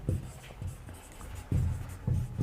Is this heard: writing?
yes